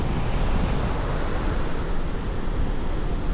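Choppy Caribbean sea surf churns in a steady, dense roar, blended with a strong, constant breeze buffeting the microphone; no voices.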